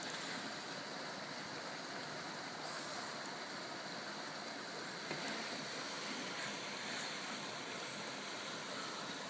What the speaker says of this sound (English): Wow, look at this water coming through.